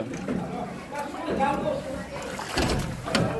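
Floodwater from the overflowing Machchhu dam sloshes and splashes through a house in a Wankaner mill society, a steady watery churn running throughout beneath nearby voices.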